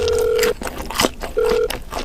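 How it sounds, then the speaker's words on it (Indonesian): A telephone dial tone sounds twice as a steady electronic hum, the first tone lasting about half a second and the second slightly shorter, separated by brief handling and mouth noises close to the microphone. "gue mau telepon temen deket gue"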